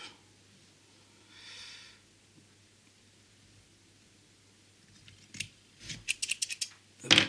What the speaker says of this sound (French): On vient couper ce qui dépasse.